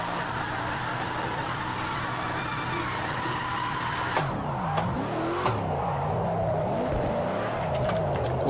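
A Ford Mustang RTR drifting in the Project Cars 2 racing game, its engine droning loudly and continuously with pitch that swoops up and down as revs rise and fall, with tyre noise underneath.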